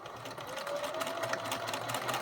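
A sewing machine stitches lace onto a fabric clothes hanger cover in a steady, quiet, continuous mechanical whir with a fast rhythmic needle patter.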